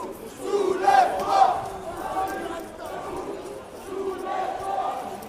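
A small crowd of protesters facing CRS riot police on a street, shouting and chanting together in rising and falling waves of voices heard from nearby.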